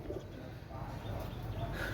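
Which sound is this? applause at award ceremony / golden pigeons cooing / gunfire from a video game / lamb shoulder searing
golden pigeons cooing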